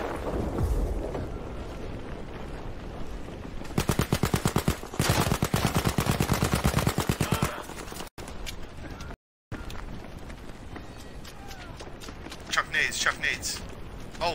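Video game gunfire rattles through bursts of rapid automatic shots and scattered single cracks, loud and close, with a brief silent gap, while players talk over the action.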